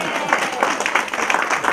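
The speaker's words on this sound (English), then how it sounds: "Big clap." Audience applause at a college campus program, a dense wash of clapping from a crowd mixed with voices and cheering, loud and sustained.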